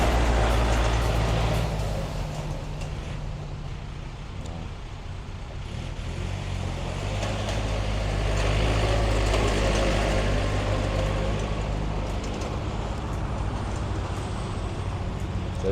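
A used Yanmar EF514T 51 hp tractor with low hours runs steadily nearby, its engine a constant low drone with no talk over it.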